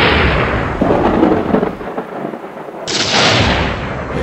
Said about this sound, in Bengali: মনে হচ্ছে বাইরের মেঘ ডাকার আওয়াজ শুনলাম